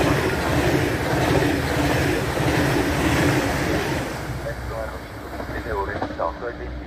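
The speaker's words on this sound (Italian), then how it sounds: "È in arrivo al binario 2." A regional train rolls into platform 2 at Occhiobello station in Italy with a loud, steady rumble and rail noise that eases slightly toward the end, where brief squealing tones appear.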